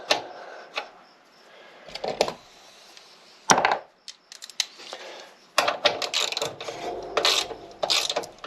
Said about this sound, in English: oh, I gotta tighten that up